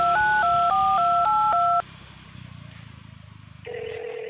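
A telephone number is keyed in as a quick series of distinct touch-tone beeps, followed by a quieter line hum and then a steady tone.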